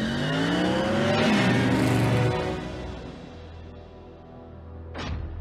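Car engine of Bumblebee from Transformers Prime revving hard as it accelerates, a loud rising roar that fades down, then a short swoosh near the end.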